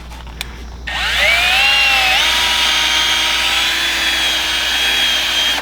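A cordless drill spins a polishing pad against a car headlight, starting after a brief quiet moment and then whining steadily and loudly with a slight pitch shift partway through.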